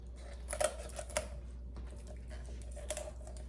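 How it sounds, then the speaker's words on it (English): Heavy-duty kitchen scissors crunch through a raw chicken's backbone while spatchcocking it, giving a few sharp snips and cracks near the start, then quieter scattered crunches and one more cluster toward the end, up close with no talking. "So I'm just taking my scissors and I'm pulling the tailbone."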